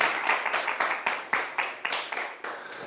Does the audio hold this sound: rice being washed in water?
no